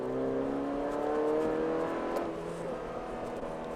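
Honda Civic VTEC engine revving as a car pulls in second gear, a steady rising engine drone with a climbing pitch through most of the stretch, heard from inside the car with no talk.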